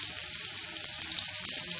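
Hot oil sizzles and crackles steadily as a chopped onion fries with fennel seeds in a pan, a close, continuous hiss with small pops.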